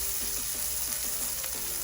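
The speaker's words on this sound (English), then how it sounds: "See, the onions are getting nice and golden." Onions frying in a pan for an eggplant, tomato and spinach dish, a steady close sizzle with soft crackle that holds evenly throughout, no talking.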